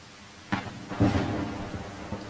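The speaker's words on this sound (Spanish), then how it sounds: "Está tronando bastante." Thunder from a storm in the survival game The Isle rumbles in, with a sharp crack followed by a louder rolling boom over a steady hiss of rain.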